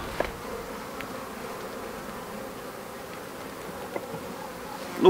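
Steady insect buzzing fills the clip, a dense hum of many bees around a comb, continuous and fairly close, with a couple of small knocks.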